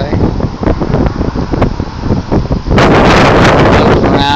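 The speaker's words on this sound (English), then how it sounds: "Really windy out today." Strong wind buffets the microphone on the Dunedin Causeway, a continuous roaring rumble that swells into a louder, harsher blast partway through, with no voice heard.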